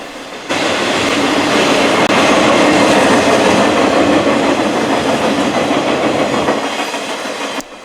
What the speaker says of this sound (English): After the train passed by